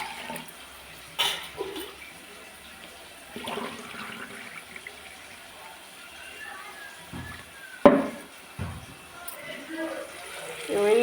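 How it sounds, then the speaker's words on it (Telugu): Water measured in a glass is poured into a pan for rava (semolina), giving quiet splashing bursts that come and go, with faint background noise between them. "దీంతో కొలిసి పోసుకోవాలి నీళ్ళు"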